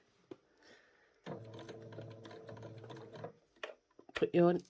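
A sewing machine stitches double-layered felt applique numbers in a short close burst of about two seconds, a quick rapid run, then stops with a few light clicks. It sits between stretches of voice.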